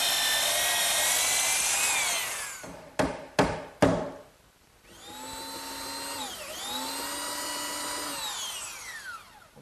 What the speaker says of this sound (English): My belt sander does a good job removing any of the excess dowel